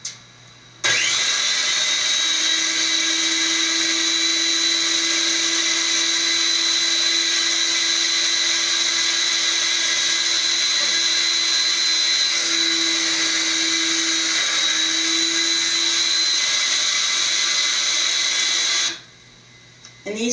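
A power tool cutting through a metal fifth wheel hitch piece, a loud sustained high-pitched whine held for about eighteen seconds, starting and stopping abruptly.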